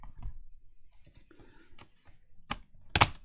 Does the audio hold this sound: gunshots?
no